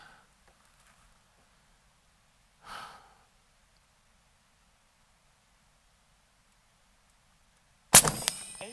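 Single sharp shot from an Umarex Hammer .50 caliber big bore airgun firing 420 grain slugs, a loud crack near the end after quiet breathing and rustle.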